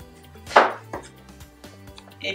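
A knife cuts through halved potatoes on a board, giving one sharp, close chop followed by a few softer cuts, with faint background music throughout.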